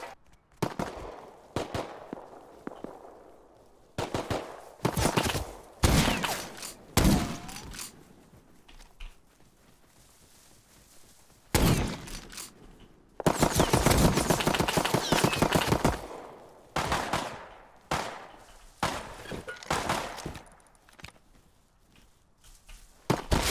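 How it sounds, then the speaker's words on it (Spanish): Gunfire in the survival game Rust, repeated bursts of sharp shots and rapid automatic fire at varying distances, some loud and close, others fainter, with pauses between volleys and no talk. "Estoy escuchando por ahí disparos."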